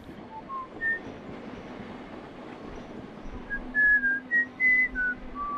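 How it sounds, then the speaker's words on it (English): A train runs along a nearby line in a large city, heard as a steady low rumble with a drawn-out hum, topped by several brief high squeals of wheels on the rails. "I live right next to a train line, so they're going by, 7, 8 times an hour."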